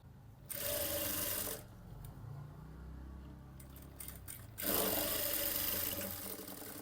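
A sewing machine stitches the front and back of a blouse together at the shoulders, running in two close, loud bursts separated by a quieter pause.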